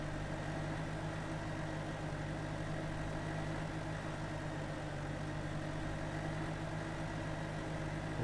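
A tractor engine idles steadily in Farming Simulator 2015 on the Bjornholm map, a constant low droning hum with even vibration and no change in pitch, heard alone at moderate level.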